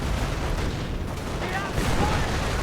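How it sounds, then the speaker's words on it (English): An artillery strike in a real-time strategy war game: a continuous wash of rumbling booms and distant gunfire fills the scene loudly, swelling again toward the end. "calling in artillery on this spot"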